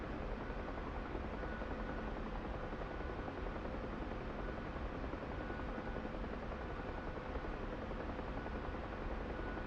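Mi-8 helicopter in a flight simulator game, a steady dense rotor and turbine roar that stays level and unbroken throughout, with no voices.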